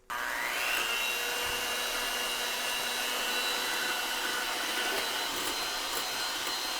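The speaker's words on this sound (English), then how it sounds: "we're gonna put this aside for just a minute while we get our egg whites whipped up into stiff white peaks" An electric mixer whips egg whites toward stiff peaks for bourbon maple marshmallows, a loud, steady motor whir that starts abruptly and runs continuously, close by with no talking.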